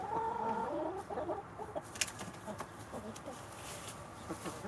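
Chickens cluck softly in a farmyard, with scattered short calls at mid distance over steady background noise.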